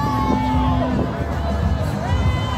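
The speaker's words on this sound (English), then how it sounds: "I know, it sounds like booing, because we are rivals to that hockey association." A crowd lining a Christmas parade route in Bedford lets out sustained booing-like jeers and shouts, a loud, continuous wall of mixed voices with children's calls mixed in.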